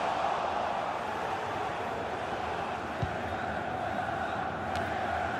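A stadium crowd roars steadily in a FIFA 21 football match between Werder Bremen and Borussia Mönchengladbach, a dense, continuous wash of cheering and chanting that stays even from start to finish.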